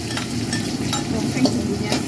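Spices stir-fried in a small amount of oil, garlic and onion among them, giving a steady close sizzle with soft, rapid scraping of a utensil throughout.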